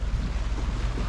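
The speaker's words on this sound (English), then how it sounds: "Oh, I love the sound of the waves crashing." Ocean waves wash onto a beach on Salt Spring Island as a steady, broad rushing surf with a wind-buffeted texture, continuous and fairly loud, with no voices.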